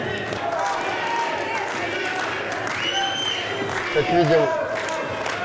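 Kickboxing fans at a K-1 professional bout in Yakutsk cheer and applaud steadily after the fight ends, a dense crowd roar with scattered claps throughout, under a commentator's talk.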